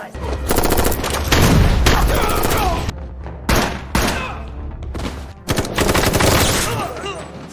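Bursts of gunfire erupt in a tense action film shootout, with loud rapid volleys separated by brief gaps of quiet.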